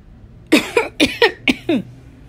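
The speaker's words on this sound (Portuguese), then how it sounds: "Em seguida, deu uma tossida." A burst of six quick, harsh coughs in a row, close and loud, then quiet.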